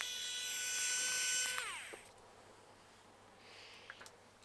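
A power screwdriver removes the two screws from the dome of a B&M Necross Dalek model: a loud, high motor whine for about a second and a half that winds down and stops, followed by faint clicks and handling noises.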